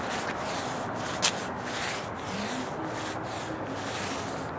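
Paint roller spreading a coating on a Ford F100 truck project, a steady soft rubbing and rolling texture, close and continuous, with a brief sharp tap partway through.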